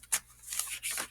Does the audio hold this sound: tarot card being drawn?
yes